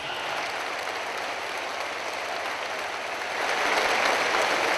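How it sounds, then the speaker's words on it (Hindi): A crowd applauds steadily at a public event honouring the Pakistani prime minister, the clapping dense and continuous, swelling louder toward the end, with no voices over it. "भरपूर तालियां।"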